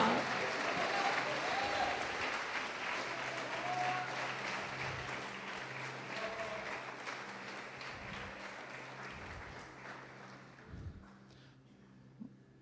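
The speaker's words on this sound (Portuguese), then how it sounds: "Quem crê pode aplaudir o Senhor e glorificar." A church congregation applauds in a long sustained wave of many hands that slowly thins and fades toward the end, with faint voices underneath.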